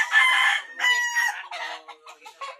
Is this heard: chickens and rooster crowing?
yes